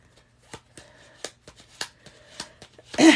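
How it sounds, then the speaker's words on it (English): A deck of playing cards is shuffled by hand in a quiet room, giving a series of crisp, quick riffling snaps spread irregularly across a few seconds, with a louder rustle at the end. "We'll shuffle these again."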